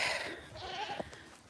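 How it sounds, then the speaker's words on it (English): Tame goats bleat amid farmyard noise on a homestead, a couple of wavering cries close by, with no talking. "That's the reason why I like tame goats."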